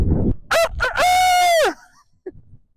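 A person imitates a rooster's cock-a-doodle-doo at a show-jumping course walk, loud and close, ending in a long drawn-out final note, followed by quiet.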